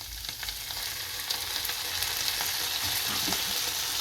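Leftover roti snack frying with tomato sauce and soy sauce, a steady close sizzle filling the pan throughout, with faint stirring scrapes and no talk.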